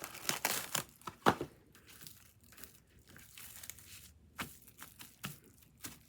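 Plastic cling film is peeled and ripped off decorative craft paper in a series of close, crinkly tearing and crackling bursts, loudest early on and again near the end, with quieter rustling between.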